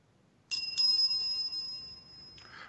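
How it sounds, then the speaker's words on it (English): Two quick rings of a shop bell in a gaming store, near and clear, the first chime sustaining a steady metallic tone and the second ring following shortly after, with nothing else audible. "Well, that was the double bell."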